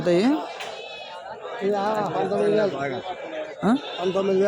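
Goats bleat at the Kadiri goat market: sharp, quavering calls near the start and again toward the end, set against steady talking and crowd chatter.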